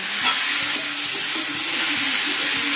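Onions frying in a pan on a gas stove, a steady loud sizzle with soft scraping stirs, close up and without talk.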